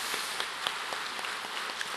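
A church congregation gives warm applause to elderly parents on Parents' Sunday: dense, steady clapping from many hands filling the room, with a few sharper claps standing out.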